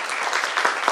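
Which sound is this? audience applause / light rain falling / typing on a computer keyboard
audience applause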